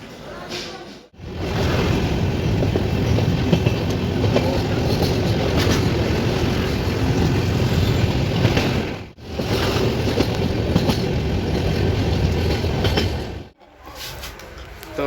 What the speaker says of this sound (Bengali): এখন ট্রেনটা আসবে ট্রেনটা অনেকটা দূরে আছে